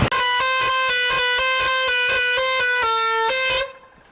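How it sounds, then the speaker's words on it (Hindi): A pressure horn fitted to a vehicle at a roadside traffic check blares in one loud, steady, multi-toned blast lasting several seconds, with a slight pitch shift near the end before cutting off abruptly. "प्रेशर हॉर्न का ही चालान हम करवाएंगे। हॉर्न बजा दो, केवल हॉर्न बजाओ।"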